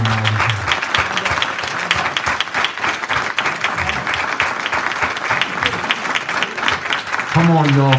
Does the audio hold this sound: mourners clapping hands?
yes